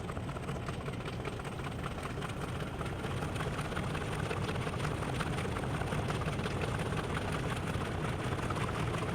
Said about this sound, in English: Class 166 is coming.